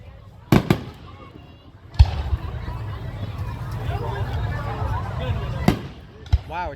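Carnival fireworks bursting high overhead, with several sharp booms standing out over a steady crackling rumble and a crowd murmuring nearby; people chat quietly throughout.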